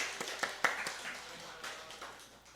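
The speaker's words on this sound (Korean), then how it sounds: "우리 박수로 우리 자랐다고 우리 축복하겠습니다" A church congregation claps during a Sunday worship service to bless a young child. The applause is scattered and fairly soft, with irregular claps fading over a couple of seconds in a large room.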